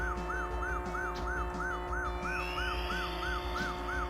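Police siren in Taito's Chase H.Q. arcade driving game, a steady wailing electronic sweep repeating about every third of a second over constant engine drone and game sounds, with no talk.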